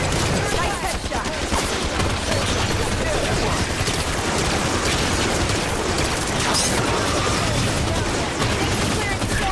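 Dense, continuous gunfire from a shooter video game, with rapid automatic bursts and overlapping shots that stay loud and unbroken throughout.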